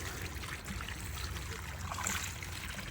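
A steady stream of water poured from a watering can around a newly planted rose seedling, a continuous soft trickle close at hand and fairly quiet, with no voices.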